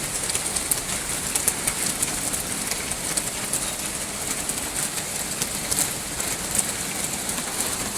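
Steady rain falls outside a house whose kitchen has suffered water damage, a dense continuous patter with faint bird calls, no talking.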